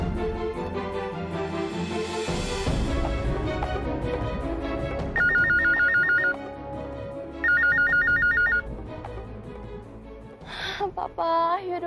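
A telephone rings in two bursts of rapid electronic trills on a call placed from a public payphone, amid dramatic music, gasps and voices.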